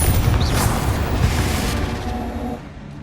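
A Confringo spell explosion in Hogwarts Legacy: one loud, close boom that rumbles and fades away over a few seconds.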